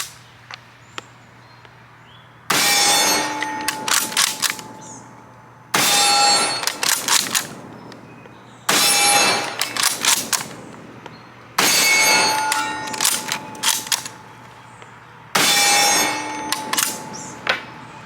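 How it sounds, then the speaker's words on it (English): An M91/30 Mosin Nagant rifle fires five loud, close shots, each followed by bolt clatter and ringing echoes, with shots spaced roughly three seconds apart against a faint background hum. "So let's run 5 rounds through the 9130 and see if this one runs any smoother than the M44."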